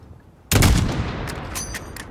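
A single rifle shot fired at a distant target 600 meters away in the game Call of Duty: Modern Warfare, a sudden loud close blast followed by a long rumbling echo and tail.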